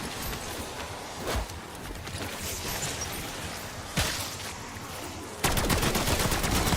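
Feng 82 machine gun in Black Ops 6 firing in dense sustained bursts over a busy game mix, with an abrupt, louder rapid stream of shots toward the end.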